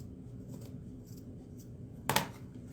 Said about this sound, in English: All I got to do is turn it over and cut it along the edge.